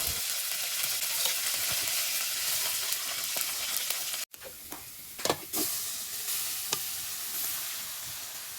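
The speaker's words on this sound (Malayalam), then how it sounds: "ഇനി അതിലേക്ക് എണ്ണമൊക്കെ പൊട്ടിച്ചിട്ട് സാധാ നമ്മളെ കപ്പ വറക്കുന്ന പോലെ തന്നെ നമുക്ക് കപ്പയും കൂടി ഒന്ന് വറുത്തെടുക്കാം" Cassava (tapioca) chunks fry in hot oil in a pan in a home kitchen, a loud steady sizzle with a brief break midway and a few utensil clinks, no voices.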